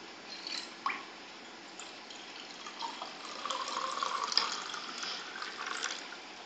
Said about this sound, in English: Now I am adding this water into this.